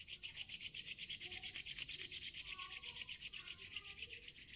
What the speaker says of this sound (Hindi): दोनों हाथों को रब कीजिए।